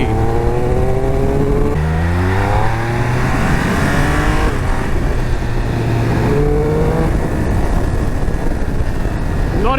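A Triumph Speed Triple 1200 RS motorcycle engine revs hard and accelerates, rising through the gears in sweeping pitch climbs with loud, close, continuous exhaust roar and no talk.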